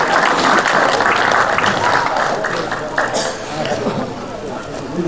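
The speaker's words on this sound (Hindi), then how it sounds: "आप सभी ताली बजाकर स्वागत करेंगे।" An audience at a community program in a hall applauds to welcome guests, steady loud clapping throughout while someone speaks over it.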